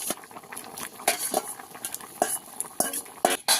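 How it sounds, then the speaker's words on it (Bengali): Spoon stirring fried prawns into a yam and potato curry in a pot, with repeated scraping clinks of utensil on metal over a soft bubbling background, close and moderately loud. "দিয়ে দেবো ভেজে রাখা চিংড়ি মাছ।"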